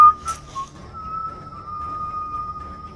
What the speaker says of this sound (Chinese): 因为护林员又吹着口哨追了上来